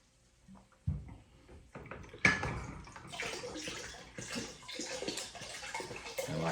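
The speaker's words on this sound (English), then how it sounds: "We're going to go ahead and drain everything out." Water draining and splashing out of a beer brewing container holding bottles for a one-gallon batch, starting with a few knocks, then a steady rushing gush at close range.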